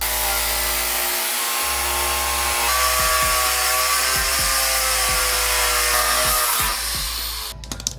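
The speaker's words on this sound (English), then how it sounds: "and then we just sand the metal down." Metal bracket being sanded down with a power tool during a front-mount intercooler install on a Hyundai Veloster Turbo, a loud continuous grinding whine that varies in pitch as pressure changes, cutting off sharply at the end.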